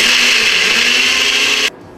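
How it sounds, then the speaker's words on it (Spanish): A kitchen blender whirring loudly and steadily as it blends beetroot with milk, then cutting off abruptly near the end. "Y vamos a licuar."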